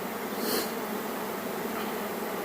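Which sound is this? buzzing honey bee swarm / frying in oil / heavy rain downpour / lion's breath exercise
buzzing honey bee swarm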